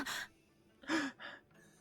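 A character in .hack//G.U. Last Recode gasps repeatedly, several short, sharp breathy intakes in close succession, close and fairly quiet with near-silence between them.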